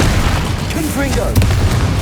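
A Confringo blasting spell from the Hogwarts Legacy video game erupts in a loud, close boom amid continuous combat noise, with a voice shouting spell names over the battle.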